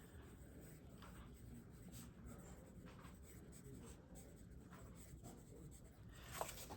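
A pen writes in a bullet journal with a soft, continuous scratching glide, faint and close against a steady background hiss.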